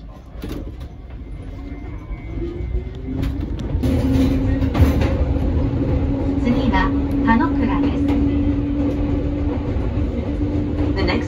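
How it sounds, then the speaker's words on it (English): Low rumble of a Fujikyu Railway train to Kawaguchiko rolling along rails with a steady drone and intermittent clicks and rattles, close and moderately loud. "This is the Fujikyu Coal Line train for Kawaguchiko."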